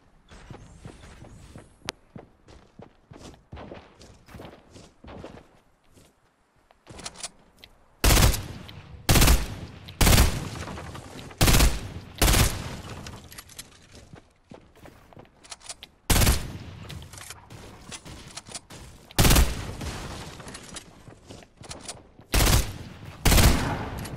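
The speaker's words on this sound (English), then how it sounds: "There's other people shooting" Bursts of gunfire from other players in a Fortnite match crack out loud and close in repeated volleys, with footstep-like clatter in the quieter stretches between shots.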